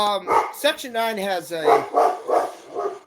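A dog barks several times in short bursts, alerting to someone arriving, while someone talks over it throughout.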